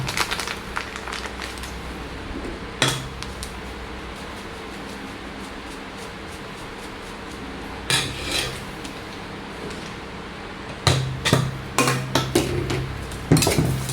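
A spoon clinks and scrapes in a bowl while a spicy cricket and mango salad is stirred, with sparse metallic taps and small clusters of clinks over a quiet background.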